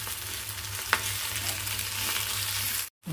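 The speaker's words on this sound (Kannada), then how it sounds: "ಎಲ್ಲ ಪುಂಡಿ ಸೊಪ್ಪು ಏನಿದೆ ಚಲೋ ಹೊತ್ತಿನಾಗ ಎಣ್ಣೆಗೆ ಹುರಿದದ ಮತ್ತು ಉಳ್ಳಾಗಡ್ಡಿನೂ ಚಲೋ ಆಗ್ಯಾವ" Pundi leaves and onion frying in oil while being stirred, a steady close sizzle with one sharp scrape of the spoon near the start, running alone until it cuts off briefly at the end.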